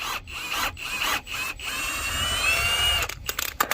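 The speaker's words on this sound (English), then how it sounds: "I'm going to use my impact just to speed it up." An impact wrench cranks down the jack on a Chrysler Pacifica during a flat tire change. The close, loud, steady whirring runs with brief pauses, then a few short bursts come at the end.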